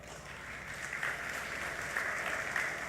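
An audience at a 2018 middle school promotion ceremony applauds steadily, a soft, continuous patter of many hands heard from some distance.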